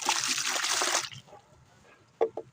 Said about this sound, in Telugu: వాటర్ యాడ్ చేసుకున్నామండి